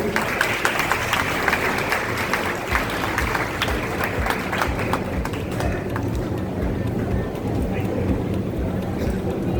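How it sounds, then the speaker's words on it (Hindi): An audience at a student award ceremony and career counseling session claps continuously in a dense, busy patter, fading gradually toward the end, with a voice speaking faintly over it. "जोरदार तालियां बजाएं आप लोग"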